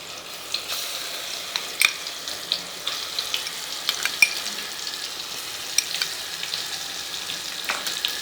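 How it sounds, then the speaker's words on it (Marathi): Light, steady sizzling of curry leaves frying in hot oil in a spoon, with scattered small pops and crackles, fairly faint and continuous. "त्यात आता हा कढीपत्ता, तेल उडू नये म्हणून मी चमच्यात टाकते"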